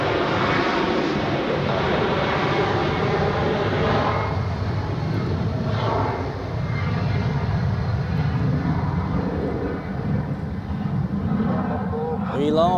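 An Embraer jet sits on the runway at Zurich Airport, heard as a steady, fairly loud jet engine roar filling the whole stretch, with a voice speaking over it.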